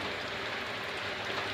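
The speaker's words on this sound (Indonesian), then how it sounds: "Dan hari ini hujan." Steady, dense hiss of rain pouring down, constant and enveloping, with no voices.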